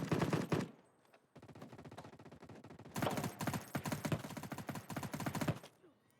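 Automatic weapon gunfire from hipfire in Battle Prime: a fast burst, a short pause, then long rapid strings of shots, loud and close, with no talk.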